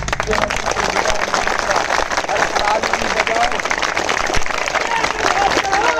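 A crowd at an outdoor protest gathering claps continuously for several seconds, loud and close, with voices mixed in under the clapping.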